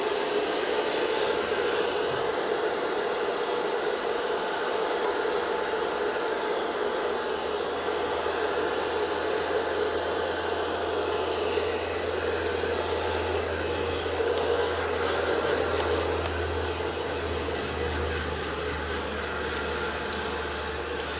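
A blow dryer running against a metal barrel brush while styling hair, giving a steady, close, loud whooshing roar that holds constant throughout with no talk.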